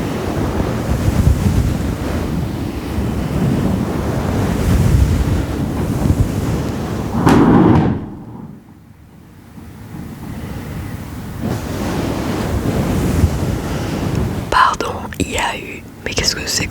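A sudden strong gust of wind roars across the microphone as a soft whisper goes on, with rumbling, surf-like buffeting that swells, drops away briefly, then returns with the murmuring voice.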